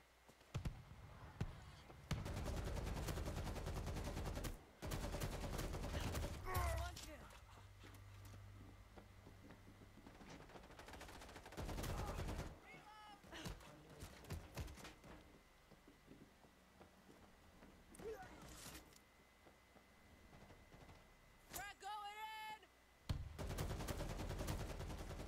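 Gunfire in a World War Z multiplayer swarm deathmatch comes in several loud bursts separated by quieter gaps, with rapid automatic volleys and a few single shots.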